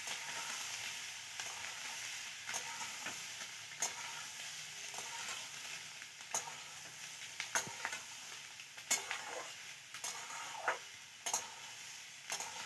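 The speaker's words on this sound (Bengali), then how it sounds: "আমি 2 থেকে 3 মিনিটের মতো এইভাবে নেড়ে নিচ্ছি" Boiled eggs stirred and fried in oil over lowered heat: a steady, fairly quiet sizzle broken by irregular clicks and scrapes of a spatula against the pan, with no talking.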